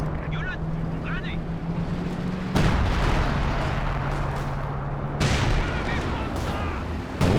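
Double howitzer artillery shells land in a Company of Heroes 2 match, two heavy booming impacts a few seconds apart over constant battlefield rumble and engine noise.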